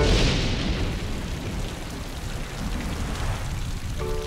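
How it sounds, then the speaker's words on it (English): Steady rain hisses down in a cartoon, a dense even wash of falling drops that stays loud for the whole stretch with no talking. "My, that cool rain feels nice."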